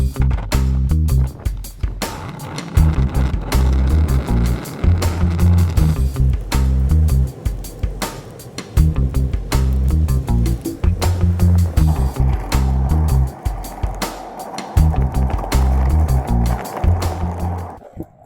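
Arbor Pilsner cruiser skateboard rolling over rough pavement, a loud continuous grinding rumble with rhythmic clacks from the wheels hitting cracks and seams, running nearly the whole time with brief lulls.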